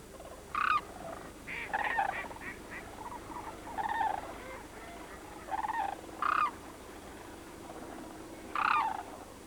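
Sandhill cranes on a protected wetland refuge, calling in repeated loud rattling bursts, several separate calls spread across the stretch, moderately close, with no voices over them.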